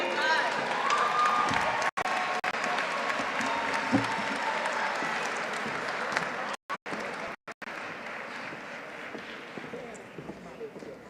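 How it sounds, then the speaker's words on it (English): Audience at a university commencement ceremony applauding, a continuous dense clapping with a few brief breaks in the sound, steady and loud throughout, with faint voices mixed in. "Let's give Amani another hand for that amazing charge"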